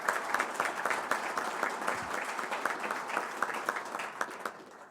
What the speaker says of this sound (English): if you can just give them a round of applause for their leadership as well